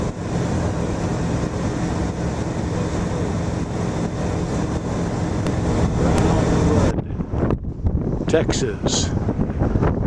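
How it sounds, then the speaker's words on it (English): Wind buffets the microphone in a steady, loud roar aboard a Rans S-6 Coyote light aircraft in flight over Texas, then drops off sharply near the end, with someone talking over it. "Wind's blowing."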